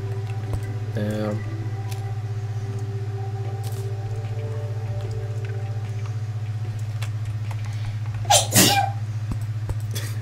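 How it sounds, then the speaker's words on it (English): A woman with an allergy sneezes once, a sharp burst partway through, over a steady low hum and faint background noises, with no talking around it. "That's my wife sneezing there."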